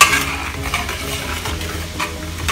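Steady crackling sizzle of radish stir-frying in hot oil, with quick scraping stirs and light clinks of a utensil against the pan throughout.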